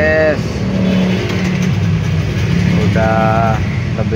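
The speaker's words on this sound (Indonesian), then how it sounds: "udah lebih 2 jam kena macet ini di Gatsu Timur arah ke bypass." Dense traffic jam on Jalan Gatot Subroto Timur in Denpasar, Bali, heading toward the bypass, with cars and motorcycles droning and revving close by, horn-like tones sounding briefly, and people talking over the steady road noise.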